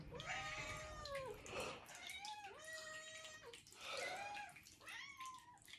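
Several cats meow insistently in the morning while food is being prepared, about five clear, drawn-out calls overlapping closely, fairly quiet overall.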